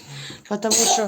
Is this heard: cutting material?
no